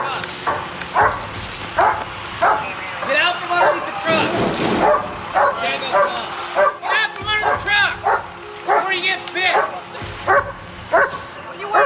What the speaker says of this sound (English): they got the dog out and they're doing a dog track for the guy from the other car